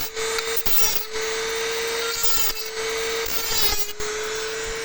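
A die grinder cleans the threads on a rotavator part with a steady high-pitched whine and gritty scraping, close and continuous, with a few brief dips as the tool shifts on the metal.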